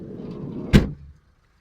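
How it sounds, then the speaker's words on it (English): The side sliding load door of a Peugeot Partner 625 SE 1.6 diesel van slides and shuts with a single close, solid thud after a short rumble of movement, then silence. "Side sliding load door, dead handy, very useful little bit of kit."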